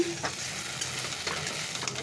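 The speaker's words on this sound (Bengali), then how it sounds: "একটু ভাজা ভাজা করে নিই" Spices frying in a pan on a gas stove, giving a steady sizzle under stirring and scraping noises, with a few brief clatters, heard close and alone.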